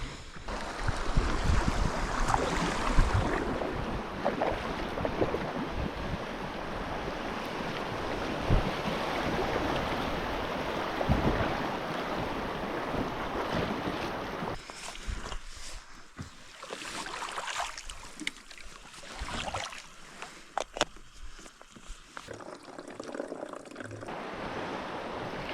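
A packraft drifting down a calming mountain river in Alberta, with a steady rushing wash of water and gusty wind buffeting the microphone, loud at first and then easing into quieter, patchier water sounds with no voices.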